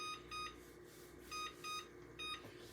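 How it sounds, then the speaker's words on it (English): A kitchen timer beeps in short repeated bursts, five quick electronic chirps spaced at an uneven rhythm, clear and close over a low background hum while tuna melts on naan bake in the oven. "let's set our timer"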